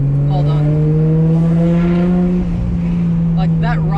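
Raspy, steady engine note from a Nissan R33 with a built RB25DET turbo, held at a strong, even drone throughout with slight pitch rise, close and loud, with a brief higher chirp near the end.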